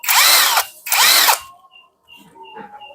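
A Monake 48S 330 Nm cordless impact wrench, running on a small five-cell battery, gives two loud, close bursts of high whirring and rattling, each about half a second long, then stops. Faint tones and a soft rumble follow.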